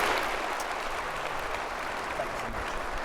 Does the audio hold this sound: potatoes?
no